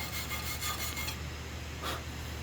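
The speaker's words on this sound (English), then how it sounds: "Clean that off, get it with the wire brush" A wire brush scrubs a fresh SMAW stick weld on a 1G root and fill, a close, dry, raspy scraping in quick repeated strokes.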